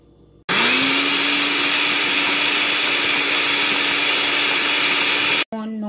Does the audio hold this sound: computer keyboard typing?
no